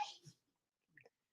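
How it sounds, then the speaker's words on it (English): A single quick, soft sneeze up close, followed by a brief faint breathy sound after a short silence. "You sneezed, I said bless you."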